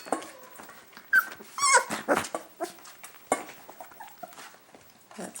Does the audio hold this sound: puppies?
yes